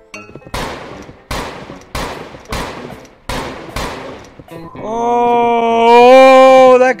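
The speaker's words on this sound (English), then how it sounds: "Sounds like people are having a shootout over here." Gunfire in a Roblox Westbound shootout: six loud, evenly spaced shots crack one after another, followed by a sustained tonal wail or moan from the game.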